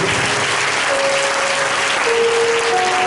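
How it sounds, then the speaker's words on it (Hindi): Steady, dense applause from a church congregation, loud and continuous throughout with no voices standing out. "जोरदार यीशु मसीह के लिए ताली बजाएं।"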